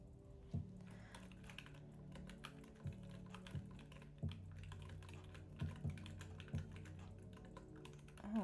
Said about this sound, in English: let me get to typing the XYZ workboard